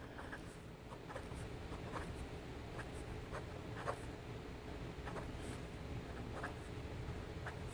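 Scrikss 419 piston-filled fountain pen writing on paper, a faint continuous scratching with short strokes and pauses, close up with no talk.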